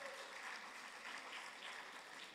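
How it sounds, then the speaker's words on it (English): A conference audience at an opening ceremony applauds: dense, even clapping from many hands, fairly faint and distant, holding steady throughout with no voices on top. "Please give her a round of applause."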